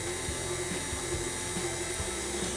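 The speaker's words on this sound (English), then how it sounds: "We want to whisk this until it's just soft peaks." Heavy whipping cream being whisked toward soft peaks for a tiramisu-style dessert, a steady, close, continuous whirring with a faint rhythmic swish running through it and no talking.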